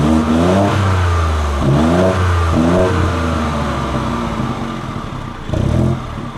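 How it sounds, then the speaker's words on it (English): A 2019 Mini Cooper 3-door hatch facelift revs repeatedly through its exhaust, rising engine sweeps close by, then a steady idle before one more short blip near the end. "I really love the sound of this car right now"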